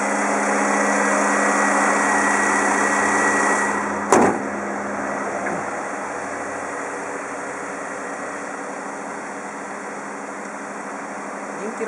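A 2006 Toyota Camry 2.4 G Limited with a 2.4-litre inline-four DOHC engine idles at a steady hum, with a brief thump around the four-second mark.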